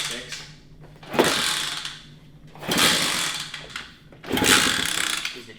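A worn pit bike engine is cranked over in three separate bursts, each a rough mechanical churning that rises and falls, with quieter gaps between the attempts.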